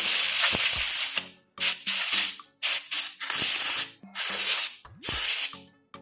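Compressed air blasts dust out of a PC fan held still with one finger, coming in six or seven loud hissing bursts of about half a second to a second each, separated by short pauses, close up with no talking.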